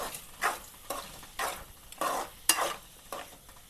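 Tomatoes being stirred into a ridge gourd curry in a pan, a series of about seven rhythmic scraping stirs over a soft sizzle, fairly quiet, no talking.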